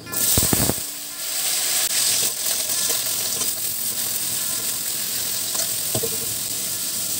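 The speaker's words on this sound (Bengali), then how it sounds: "এগুলো দিয়ে কড়াতে ভালো করে একটু নেড়ে নেবো আগে তেলেতে" Potatoes and vegetables hiss and sizzle steadily in hot oil in a wok, stirred with occasional soft scrapes and clatters, close by and continuous, after a brief clatter at the start.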